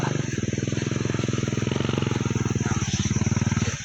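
A motorcycle engine runs steadily close by with a fast, even putter while the bike is maneuvered and backed up, holding a constant idle-like rhythm throughout with no talk.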